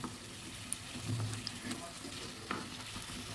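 Pakoras made from flour and potato fry in oil, a faint steady sizzle near at hand, with a few soft clinks as pieces are stirred and lifted out.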